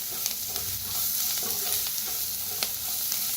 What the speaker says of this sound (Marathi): हळदीला बी भाजून घेऊया.